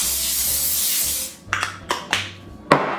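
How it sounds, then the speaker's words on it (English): A close cooking spray aerosol hisses steadily for about a second onto a parchment-lined baking pan, then comes four short sharp spritzes with brief pauses between them. "give that a spray as well on top"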